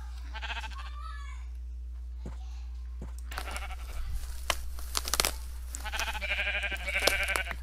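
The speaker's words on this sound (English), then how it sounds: "Now I can shapeshift into a sheep." Sheep bleats from Minecraft in the Crazy Craft modpack, several wavering game calls over steady background hum, growing louder and busier toward the end.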